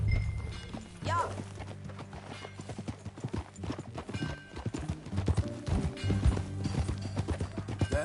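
Horse hooves clip-clop steadily in Red Dead Redemption 2 as a horse walks along, close and clear, with a brief whinny and people talking over the hoofbeats.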